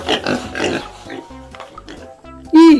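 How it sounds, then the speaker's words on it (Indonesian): A farm pig grunts and oinks in a few short low snorts after a voice talks, ending with a louder squeal-like burst. "ternyata di dalamnya ada hewan yang namanya babi"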